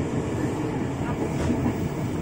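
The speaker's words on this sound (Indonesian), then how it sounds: "Jadi sekarang kita lagi naik Tokyo Metro 7000 yang rangkainya 8 kereta." A Tokyo Metro 7000 series commuter train, eight cars long, departs Gondangdia station in Jakarta, heard from onboard as a steady low rumble of rolling wheels and motors, with voices talking over it.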